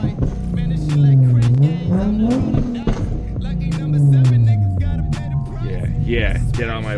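A straight-piped Nissan 370Z revs hard with a flame map, its engine note rising and falling in two long sweeps, with sharp pops and crackles in between, loud and close, while voices talk over it.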